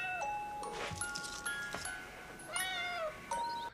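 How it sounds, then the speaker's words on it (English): A cat in The Silence of the Lambs meows several times, its rising and falling cries standing out clearly over a quiet background with faint chime-like tones. "if it wasn't for this meowing cat"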